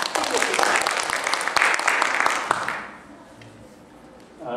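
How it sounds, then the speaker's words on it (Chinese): An audience at a foundation's opening ceremony claps in a dense burst that lasts a few seconds and then dies away into quiet room noise. "请大家鼓掌好吗"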